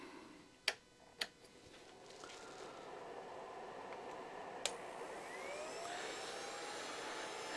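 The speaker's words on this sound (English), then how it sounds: "I have a portable heater here and a heat gun that I can dial in the amps just a little over 100" A portable heater and a heat gun run together, giving a steady, faint whooshing blower noise with a few sharp clicks near the start as they switch on.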